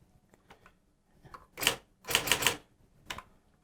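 An electronic typewriter clacks out a few quick keystrokes, mostly in two short bursts of clustered strikes with one lone tap after them, fairly close and otherwise quiet.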